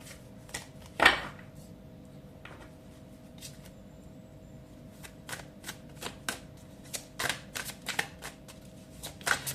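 Playing cards shuffled in several quick riffling bursts, one louder early burst followed by a scattered run of short crisp flutters, close by in a quiet room.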